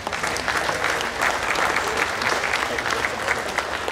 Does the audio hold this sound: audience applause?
yes